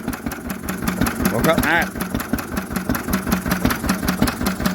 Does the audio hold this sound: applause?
no